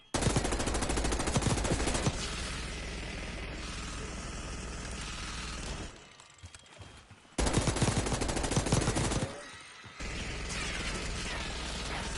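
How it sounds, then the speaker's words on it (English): Sustained, loud automatic machine gun fire in Call of Duty: Black Ops 6, a rapid continuous rattle broken by a brief gap near the middle, then resuming, with mechanical clatter mixed in. "Machine gun!"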